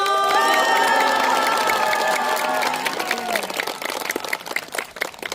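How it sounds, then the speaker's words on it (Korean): Audience applause and cheering at a Korean lecture gathering, loud clapping and shouts rising under a fading musical tone, then continuing as sharp, uneven clapping from a close crowd. "뜨거운 환영의 박수 주세요"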